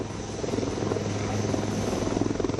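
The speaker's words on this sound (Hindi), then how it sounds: "ये हेलीकॉप्टर एसेंशियली एक रिजिड रोटर प्लेटफॉर्म है" HAL Prachand light combat helicopter with a rigid rotor flies past, its steady loud rotor thrum and turbine whine holding throughout with slight pulsing, no voices.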